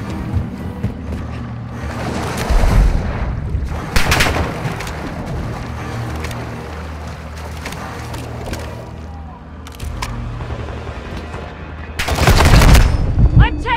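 Gunfire in Call of Duty: Modern Warfare II, with scattered loud bursts and cracks over a low rumbling backdrop, the heaviest volleys near the start, around four seconds and at the end.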